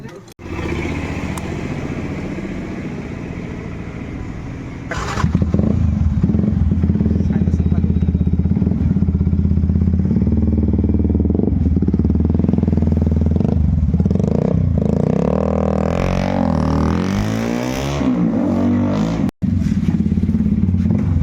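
A motorcycle with an aftermarket exhaust idles loudly and close by, then roars through several throaty revs with a rumbling, clattering exhaust note.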